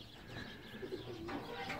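Pigeons coo softly in their loft nest boxes, low murmuring calls a little distant over faint room noise, with a chirp or two.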